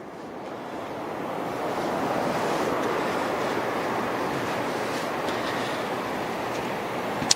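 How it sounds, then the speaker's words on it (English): A light wind blows outdoors beside the water. A steady broadband rush of wind and surf fills the whole stretch, close to the microphone, with no voices. "There's about a mile-an-hour wind right now."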